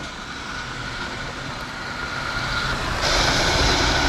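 A vehicle carrying an Inca4x4 four-person hard shell rooftop tent drives along, a continuous broadband road and wind roar that grows slightly louder, with no rattles or talk.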